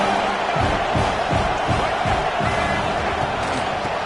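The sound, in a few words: stadium crowd cheering at American football game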